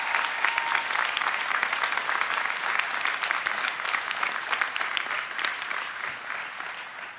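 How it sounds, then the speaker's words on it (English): A crowd at a fire and rescue recruit academy graduation applauds the pipe band and Honor Guard, giving a sustained, even round of clapping that stays loud throughout before easing slightly at the end. "give a round of applause for our pipe band and Honor Guard"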